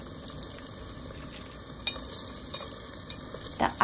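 Sweet potato tempura fries in hot oil with a continuous crackling sizzle, peppered with small pops and a few louder bursts near the end, close by and with no talking.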